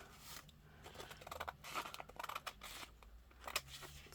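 Scissors snipping through thin napkin paper to size journal cards: quiet, close, irregular runs of crisp cutting snips and light paper rustle, a few clusters in quick succession, with no talk.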